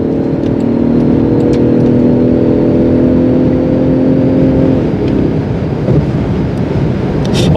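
Inside a 2024 Range Rover Sport P360 Dynamic HSE accelerating at low speed, a steady engine drone climbs gently in pitch over loud cabin road rumble, then eases off.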